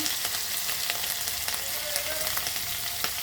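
Asafoetida (hing) hitting hot oil with ginger paste in a pan, a steady close broadband sizzle that hisses evenly throughout with faint crackles.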